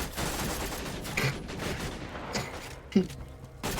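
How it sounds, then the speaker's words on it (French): Machine gun fire in the Borderlands 2 video game: steady, rattling automatic bursts at moderate level with a sharper impact near the end, under a faint game soundscape. "Mitrailleuse leur pourrit la tronche."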